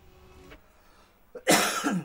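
Someone coughs, a faint throat sound first and then a loud, harsh cough burst close to the microphone near the end.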